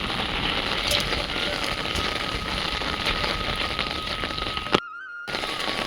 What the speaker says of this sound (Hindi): इतनी तेज बारिश मैंने सोची नहीं थी